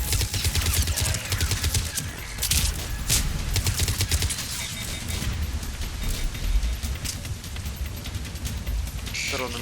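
Dense, continuous gunfire from a Mass Effect 3 firefight, with rapid bursts and shots rattling throughout under a busy battle mix, and voices calling out amid the shooting.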